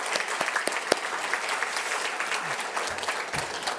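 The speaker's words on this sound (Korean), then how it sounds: "우리 다시 한 번 더 박수할까요?" A church congregation at a Sunday worship service applauds, a sustained wash of many hands clapping at moderate volume, with a few sharper individual claps standing out near the start.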